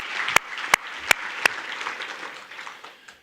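Room of guests applauding at a Texas high school football Hall of Fame induction ceremony: a dense, even patter of clapping, punctuated by four sharp, loud single claps close by at regular intervals before tapering off.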